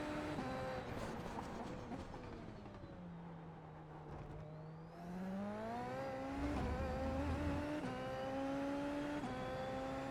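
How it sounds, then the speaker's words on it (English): In a VR driving game, a car engine closes in from behind with a whining tone that dips, then climbs steadily in pitch as the car draws near. The engine is heard alone, with no talking. "we do have a car coming up behind us"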